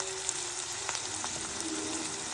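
Tomato pieces fry in a pan for paneer bhurji, giving off a steady close sizzle with small crackles and a few soft stirring scrapes.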